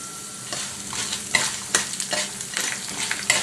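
Chana dal, urad dal and mustard seeds fry in oil with a close sizzle, while rhythmic scraping strokes of a stirring spoon come roughly every half second.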